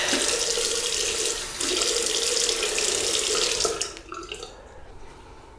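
Tap water pours steadily into a sink while a 1961 Gillette Fat Boy adjustable double-edge razor is rinsed, then the flow cuts off and a few soft drips and splashes trail away.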